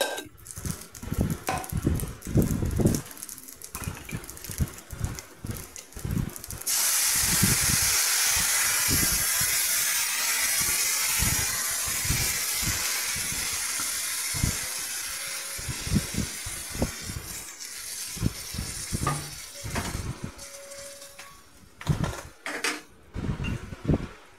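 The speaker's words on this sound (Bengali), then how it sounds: "এখন আমি যতটা চাল নিয়েছিলাম ঠিক তার ডবল জল দিয়ে দেব।" Water goes into a hot pot of fried rice for butter and coconut jeera rice, setting off a sudden loud hiss that fades back to clattering and knocking around it.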